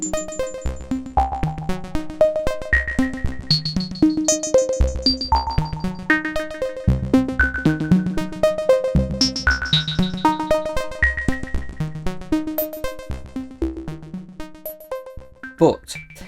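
Bright synthesized tones from a modular synthesizer play short melodic phrases over a pulsing low bass pattern, with clear plucky attacks and a steady rhythmic feel throughout.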